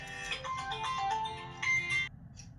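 A phone ringtone plays indoors, a melodic electronic tune of several quick rising and falling notes that stops abruptly after about two seconds, close and moderately loud.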